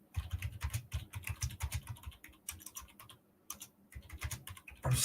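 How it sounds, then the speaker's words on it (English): Rapid keyboard typing on a computer, a dense run of clicky keystrokes in uneven bursts with brief pauses, close and fairly quiet, no talking. "I'm sitting funny, that's why I'm not typing so well."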